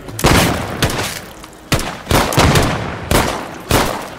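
Gunfire in the zombie survival game No More Room in Hell 2 cracks out in sharp, loud bursts, several shots spaced roughly half a second to a second apart, each ringing off with a short decaying tail, with no voices over it.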